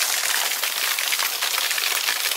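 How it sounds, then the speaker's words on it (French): Small waterfall on a nature trail in the Vosges mountains, a steady close hiss of splashing water with no pauses and no voices. "Donc voici la cascade"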